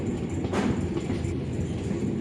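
A MEMU passenger train running from Chintamani to Bangalore gives a continuous low rumble of wheels and carriage with a steady hum, heard from inside or close by.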